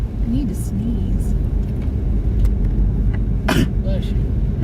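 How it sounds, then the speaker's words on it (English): A single sharp sneeze bursts out near the end inside a car during a heavy-snow drive, over loud, steady road and engine rumble. "I need to sneeze."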